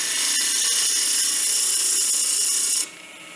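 A wood lathe spinning a finial blank while a 3/4 inch spindle roughing gouge cuts, a loud steady hissing shear with a faint rhythmic tick, easing off into a quieter motor hum at the end.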